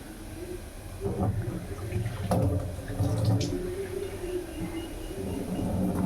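Water is poured over field beans in a pressure cooker, a splashing, hissing pour that swells and continues for several seconds at close range.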